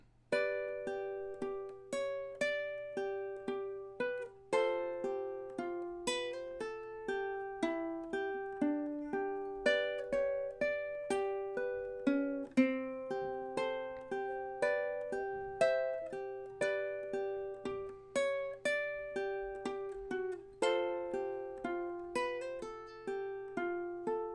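A ukulele plays a plucked love-song passage with a chromatically moving bass line, a steady rhythmic run of clear picked notes, close and alone with no talking.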